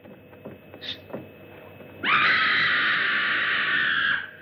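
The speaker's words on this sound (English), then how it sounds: "That was a scream." A person, in a horror story set on Spider Island, lets out a sustained high shrill scream of about two seconds, rising sharply out of a quiet, hissy background with a few faint thumps before it.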